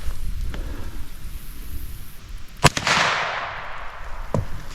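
A single sharp gunshot from a 9mm pistol firing a Federal protection round outdoors, loud and close, with a long rolling echo that fades away, followed by a fainter thump near the end.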